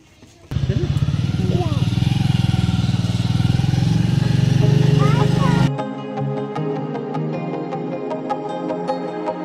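A motorcycle engine runs loud and close with a steady throaty rumble for about five seconds, then cuts off abruptly, leaving quieter background sound.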